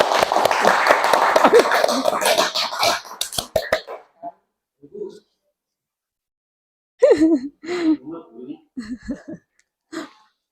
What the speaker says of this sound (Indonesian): tepuk tangan untuk Bu Rini